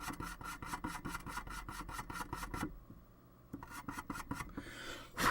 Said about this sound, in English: let me just quickly burnish that one